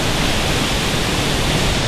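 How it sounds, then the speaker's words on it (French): A Costa Rican waterfall roars in a steady, loud, unbroken wash of broadband noise, heard up close with no voices. "on a enfin atterri à la cascade"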